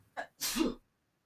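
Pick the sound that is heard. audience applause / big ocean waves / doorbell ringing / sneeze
sneeze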